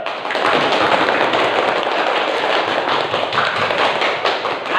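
A classroom of pupils clapping hands together in a math lesson, a loud, dense and steady patter of many claps held for several seconds.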